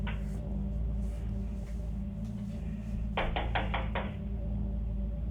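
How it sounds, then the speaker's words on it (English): A child pounds a hand against a door in about five quick, loud thuds in a row, over a constant low hum. "pounding her hand against the door"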